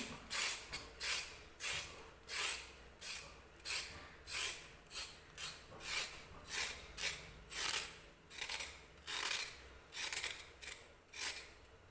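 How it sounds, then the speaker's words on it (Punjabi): Rhythmic scraping of a knife peeling carrots by hand, about two dozen short rasping strokes at a steady pace, close and clear, with no talking. "ਅਗਰ ਆਪਣੇ ਕੋਲ ਪੋਟੈਟੋ ਪਿਲਰ ਨਹੀਂ ਹੈਗਾ ਆਲੂ ਛਿਲਣਾ ਤਾਂ ਆਪਾਂ ਇਹਨੂੰ ਕੱਟ ਨਾਲ ਵੀ ਇਸ ਤਰੀਕੇ ਨਾਲ ਛਿਲ ਸਕਦੇ ਹਾਂ"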